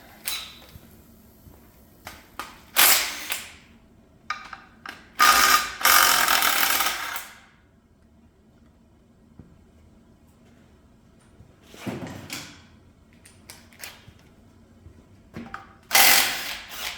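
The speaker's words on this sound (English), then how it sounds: "let's pull the oil pump pickup tube off." Ratchet clicks in separate bursts, some brief and others lasting about a second, come from work removing the oil pump pickup tube from a cast iron Cadillac 500 V8 engine, with quiet gaps between them.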